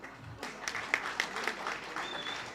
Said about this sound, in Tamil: தயவு செஞ்சு நீங்களே ஒரு தடவை கைத்தட்டிடுங்க